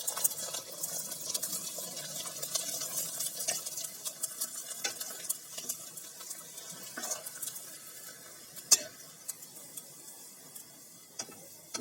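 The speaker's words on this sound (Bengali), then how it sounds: "এরকম করে ভেজে নেব সবগুলা।" Rice flour papad deep-fries in hot oil, making a soft, continuous bubbling hiss with faint crackles and an occasional light tap, quiet and close, with no one speaking.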